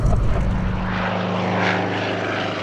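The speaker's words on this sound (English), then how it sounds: "This plane is special." A World War II propeller warplane, the bomber Tallahassee Lassie, flies past with a loud, steady multi-engine drone and a strong rumbling hum that holds throughout, close and alone without voices.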